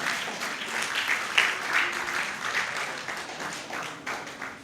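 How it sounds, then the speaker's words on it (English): Audience clapping at a book launch event, a sustained round of applause from many hands, dense and steady, fading slightly toward the end. "A round of applause to Dr."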